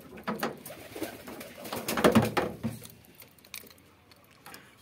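Pigeons coo softly inside a pigeon house in the morning, with several soft calls overlapping in a close, gentle burst.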